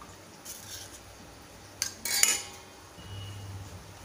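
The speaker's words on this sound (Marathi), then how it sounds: "आता आपण या भांड्यात डाळ काढून घेऊया" Soft metallic scraping and a couple of light clinks as a spoon works cooked lentils into a metal pot, quiet and close, with no talking.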